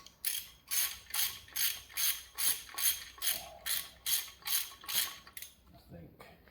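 Ratchet wrench clicking steadily in about a dozen quick, even bursts while backing bolts out near the rear main seal of a Chevrolet 5.7-liter 350 engine under rebuild, close and fairly loud, trailing off at the end.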